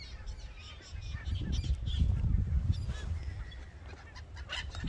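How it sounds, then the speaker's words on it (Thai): A flock of black geese descending to land, honking calls scattered across the sky amid rumbling wind and low outdoor noise, the cries fairly faint and irregular, with no speech. "ห่านนะคะกำลังล่อนลงค่ะ"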